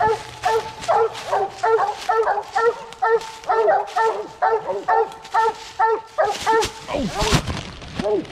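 Several coon-hunting hounds bark and bay in a steady, rapid rhythm, loud and close, with excited voices mixed in.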